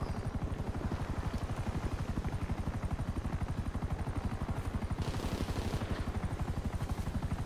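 A helicopter in GTA V Online gives a steady, rapid rotor chop with a continuous whine, a constant pulsing beat throughout, no voices over it.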